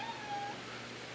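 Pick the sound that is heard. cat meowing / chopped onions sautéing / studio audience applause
cat meowing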